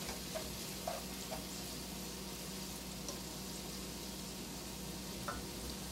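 Queso being stirred in a pan as it cooks gives a faint, steady sizzle with a few soft scrapes and bubbles, with no talking.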